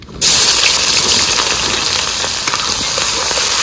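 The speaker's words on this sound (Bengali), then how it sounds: "মাংস আবার ডাইরেক্ট ধুয়ে দিয়ে দেওয়া হচ্ছে" Strong, steady gush of tap water pours over raw meat being rinsed for cooking in a kitchen, loud and continuous from start to end with no talk.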